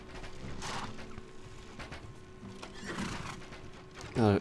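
Cavalry horses charge in a medieval battle video game, with a horse neighing near the start and again later, faint hoof and battle noise between, and a loud whinny at the end.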